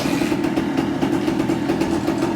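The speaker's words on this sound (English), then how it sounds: "Turn the key on, see if we can't get this bad boy to fire off here." A 1979 Kawasaki KE125A motorcycle engine running after being started on choke, giving a steady, loud, close buzzing idle with a fast, even pulse and no voices.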